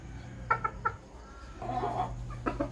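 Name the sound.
Sweater Kelso gamefowl rooster clucking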